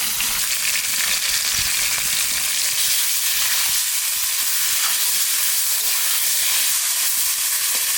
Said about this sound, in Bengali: মাথাগুলো একটু ভেজে দেবো।